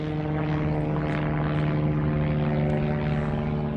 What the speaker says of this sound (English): Wait for this airplane. There's a lot of them in the sky today.